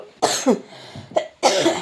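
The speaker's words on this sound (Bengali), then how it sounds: "আজকে কাশিটা বেড়ে গেছে কাশিটা না কিছুতেই কমছে না" Three harsh coughs in quick succession, close and loud, separated by short pauses.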